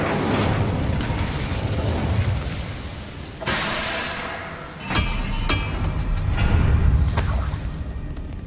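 Incendio fire spell blasts erupt in Hogwarts Legacy, loud roaring bursts with sharp cracks and shattering impacts, several hits in succession over continuous battle noise.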